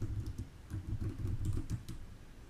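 Rapid, uneven clatter of keys on a computer keyboard as terminal commands are typed, close and clear with no talking.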